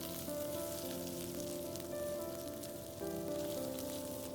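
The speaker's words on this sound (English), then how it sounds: "I've got our chopped capsicum into the pan." Chopped capsicum sautéing in a hot pan with garlic, a steady dense sizzle and crackle of frying close by, continuous and even with a brief dip near the middle, no voices.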